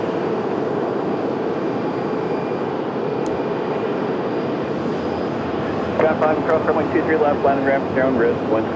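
An Airbus A319 at Raleigh-Durham International Airport sends a steady, loud broadband engine roar that holds throughout, with a voice talking over it in the last few seconds.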